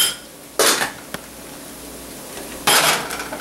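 A pot lid set back onto a stovetop pot of simmering quinoa stuffing: two short metallic clatters roughly two seconds apart, close and clear, with a faint tap between them and no talk.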